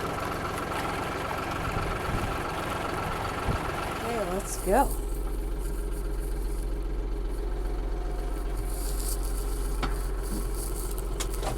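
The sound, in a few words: tractor engine idling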